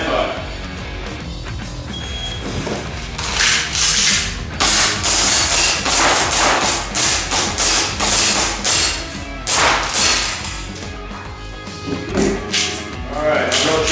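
Airsoft pistols, including a KWA USP-C, ATP, Tokyo Marui P226 and Hi Capa 5.1, fire at targets in a shooting competition, giving rapid sharp cracks and clacking shots in quick bursts, with people talking.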